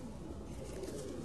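Pigeons on a rooftop give soft, low cooing murmurs, faint and steady under ambient outdoor noise, with no clear voices.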